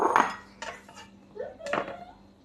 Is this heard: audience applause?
no